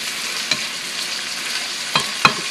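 Enchilada filling of browned meat sizzles steadily in a pan, with a few sharp scraping clicks of a stirring utensil standing out against the constant hiss.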